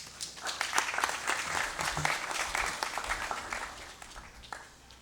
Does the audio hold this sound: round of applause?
yes